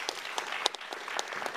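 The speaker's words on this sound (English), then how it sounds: "Let's clap for them, Hip Hop Public Health." A short burst of audience applause at a town hall event on hip-hop and health, with scattered distinct claps standing out over a steady crowd clatter.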